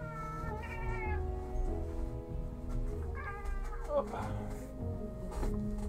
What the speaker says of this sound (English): This cat, I swear.